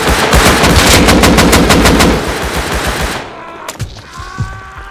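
Automatic gunfire in the video game Rust, a loud rapid burst of shots for about three seconds, followed by a few scattered single shots as it fades.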